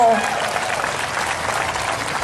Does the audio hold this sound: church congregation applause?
yes